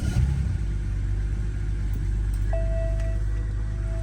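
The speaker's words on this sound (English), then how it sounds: "Okay, I mean, the car started." BMW E90 with N52 engine running just after starting, a low steady rumble close by with a faint whine joining partway through.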